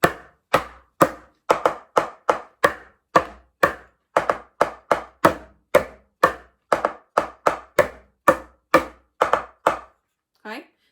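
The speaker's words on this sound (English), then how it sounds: "You get a different sound tapping on the end to tapping on the corner." A wooden spoon end taps on a plastic tub in a steady, fairly quick rhythm, crisp hollow knocks over about ten seconds, some strokes slightly louder than others, ending with a short voiced sound.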